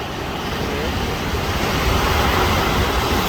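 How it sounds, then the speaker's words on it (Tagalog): Rough surf at Tangisan beach in Guam, with big waves breaking on a rocky shore, makes a continuous, close, full roar with no break and no talking. "Di maganda ngayon ang panahon. Maalon. Lalaki ng alon, no?"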